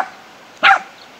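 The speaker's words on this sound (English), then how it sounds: "Barking at water." A dog gives one short, sharp bark at moving water, close by and loud, after a brief quiet stretch with a faint trailing voice at the very start.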